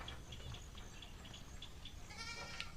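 Goats bleat at a goat farm in Lian, Batangas, giving repeated faint calls against a steady background noise, with several animals sounding at once near the end.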